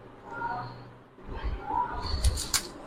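A pigeon coos softly at a breeder's loft, a few low, faint calls close by with quiet rustling between them.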